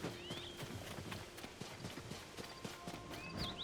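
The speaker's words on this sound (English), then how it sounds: "Hi, horse." Steady clip-clop of horse hooves from the video game Zelda: Tears of the Kingdom, with a rising whinny near the start and another near the end, fairly quiet and with no talking.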